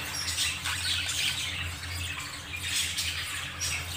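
Spangle budgies squawk and chirp in a cage, with dense, overlapping bursts of high chatter that continue steadily throughout at close range.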